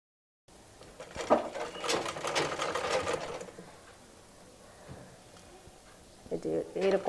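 A sewing machine runs in a steady mechanical whir, stitching elastic onto a small child's frock, loudest for a few seconds then pausing before starting again; a voice is heard alongside.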